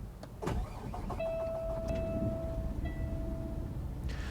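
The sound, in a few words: truck start-up dinging chime in video game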